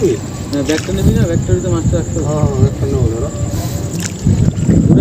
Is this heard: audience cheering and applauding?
no